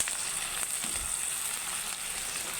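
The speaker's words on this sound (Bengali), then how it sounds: "এখন পেঁয়াজটা ব্রাউন কালার হওয়ার আগ পর্যন্ত ভেজে নিব" Onion and sliced chilies frying in oil for vegetable khichuri, a dense, steady sizzle with a high hiss, close and continuous, with occasional stirring and no talk.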